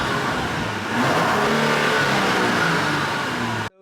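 A 2023 Genesis GV70 3.5T luxury SUV's exhaust, in Sport Plus mode, revs up hard into a sustained, throaty roar, louder and rougher, then cuts off abruptly.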